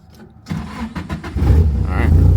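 A Nissan 240SX, left on a battery charger overnight, cranks with a few quick turns and catches, settling into a loud, close, rumbling idle.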